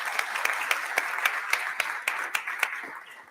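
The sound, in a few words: audience applause for conference speakers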